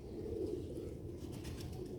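A pigeon coos in low, soft, continuous murmurs, fairly faint and close, with no talking.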